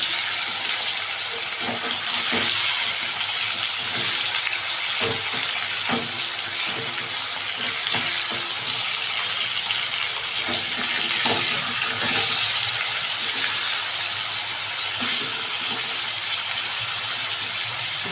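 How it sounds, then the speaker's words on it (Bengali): Butter chicken pieces fry in a pan with a steady, close sizzle and crackle throughout, broken by small pops and the occasional scrape of turning the pieces. "দুদিক আমি এইভাবে ভেজে নেব।"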